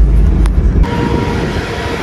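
The Shivalik Deluxe Express on the Kalka–Shimla line runs through Kandaghat station without stopping, a loud, close, heavy rumble that eases after a sharp change, leaving a thinner steady whine.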